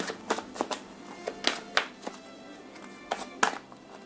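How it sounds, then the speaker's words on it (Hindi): Tarot cards being shuffled by hand, giving a run of sharp riffling slaps and taps that come in irregular bursts, close to the listener and moderately loud. "shuffle for one more time."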